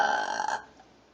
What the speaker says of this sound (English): was a funny burp.